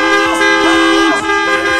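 Car horns honking at a red traffic light on a Paris street, loud repeated toots layered with sustained blasts over steady traffic rumble.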